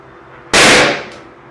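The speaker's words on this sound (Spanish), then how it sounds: "Y así es como queda el arma editada." An edited foley gunshot effect made by recording a pen: a single sharp, loud crack with a bright burst that decays quickly into a short ringing tail, heard alone.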